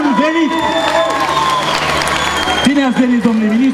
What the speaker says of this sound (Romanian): îi aplaudăm cu drag și le spunem bun venit!